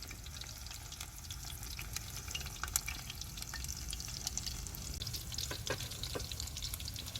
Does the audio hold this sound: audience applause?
no